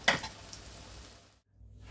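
Soured tempeh fries in a pan, a brief soft sizzle with a light clink near the start, fading out and then returning faintly.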